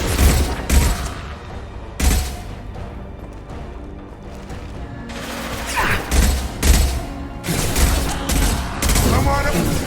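Heavy gunfire in Mass Effect 2: loud, dense bursts of shooting come in waves with brief lulls, layered with crashing impacts and a busy combat din throughout.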